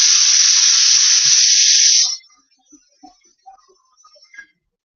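Running water from a tap rinses something off in a home kitchen, a steady loud hiss for about two seconds that cuts off abruptly, followed by faint drips and small clinks.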